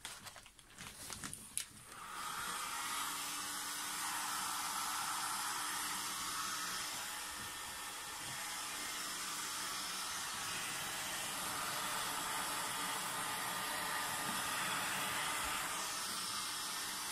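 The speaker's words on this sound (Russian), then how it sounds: "Ну и включаем фен" A hair dryer switches on after a few clicks and runs steadily with a loud, continuous airy whoosh and a faint motor hum, no talking, aimed at a rose arrangement.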